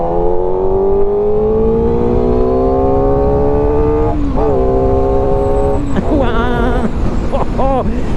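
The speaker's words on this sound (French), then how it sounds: "Le bruit, c'est exactement le bruit que font les enfants quand ils imitent une moto" SRK421 RR motorcycle with a high-revving small-displacement engine, its rising whine climbing steadily then falling and blipping repeatedly near the end, loud and close, with someone speaking briefly over it.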